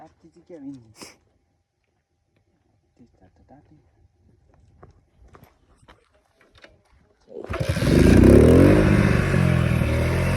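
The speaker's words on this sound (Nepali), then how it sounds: "अनि बाइक स्टार्ट हुँदैछ" A motorcycle engine starts up abruptly after quiet shuffling and faint voices, then idles loudly and steadily close by.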